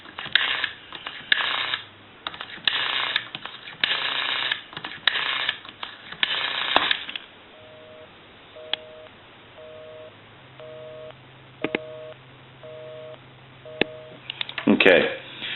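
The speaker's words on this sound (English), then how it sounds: "And I'll dial my number and it'll be busy." An Automatic Electric rotary desk telephone being dialed, its rough clicking bursts running for several seconds before a busy signal takes over, pulsing in a steady, evenly spaced on-off rhythm, close and clear.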